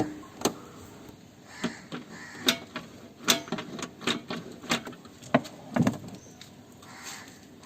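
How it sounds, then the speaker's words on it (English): Key turning in the lock mechanism of a Honda Activa scooter, a series of sharp mechanical clicks and clacks spaced irregularly, close and fairly crisp over a quiet background. "Turning the key, check if the mechanism is functioning."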